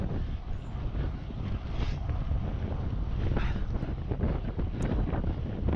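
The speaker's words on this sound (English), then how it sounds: "I had a massive crosswind swiping at the side of the bike" Strong crosswind buffets a bike on a road ride, producing a steady loud rumbling roar of wind noise across the microphone throughout, with no talking.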